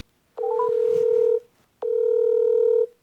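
A phone call rings out: two long, steady tone bursts separated by a short silence, clear and close.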